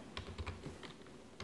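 Keystrokes on a computer keyboard as a PostgreSQL command is typed, a short run of close, crisp clicks in two quick bursts with a final tap, no voices.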